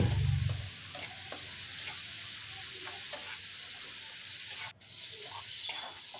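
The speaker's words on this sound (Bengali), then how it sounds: "মশলাটা খুব ভালোভাবে কষে নেব যতক্ষণ না মশলা থেকে তেল ছিঁড়ে দিচ্ছে" A spice paste of Kashmiri red chili powder and a little water fries in oil in a pan with a steady broad sizzle, joined by soft stirring scrapes. There is a brief dropout near the end.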